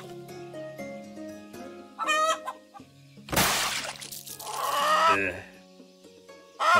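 A chicken clucks in the survival video game Keep Up Survival, with short bursts of clucking among sustained tones of game music and a loud crash midway.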